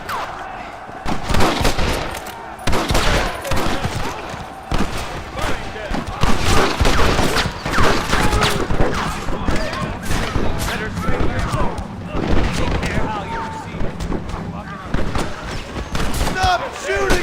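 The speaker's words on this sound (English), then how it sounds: "Stop shooting at me!" Gunfire in the video game Red Dead Redemption comes as dense, repeated shots and volleys in a loud firefight lasting the whole stretch, with voices shouting over it.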